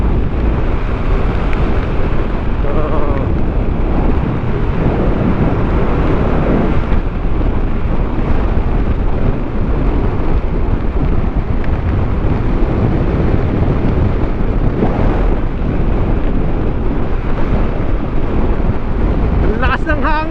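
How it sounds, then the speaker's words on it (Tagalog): Strong wind buffets the microphone on a Fazzio scooter ride along the Zambales coast, a loud, continuous roar dominating throughout, with voices faintly beneath it. "Ang lakas ng hangin."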